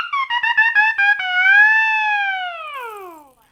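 A hand-cranked siren starts with a few quick choppy pulses, then sustains a loud rising wail that slowly winds down and falls away.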